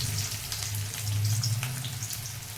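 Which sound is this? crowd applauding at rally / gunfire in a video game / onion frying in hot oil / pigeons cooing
onion frying in hot oil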